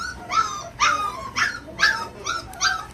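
Puppies in a kennel whimper and yip in a run of about six short, high whining cries, fairly close and clear with no talking.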